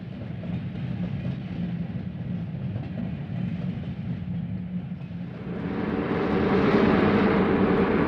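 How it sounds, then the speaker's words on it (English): A Milwaukee Road passenger train pulls out of Seattle, a steady broad rumble of rolling wheels and engine that swells louder toward the end as it draws nearer. "This Milwaukee train is heading out of Seattle to use all Milwaukee tracks back to Chicago."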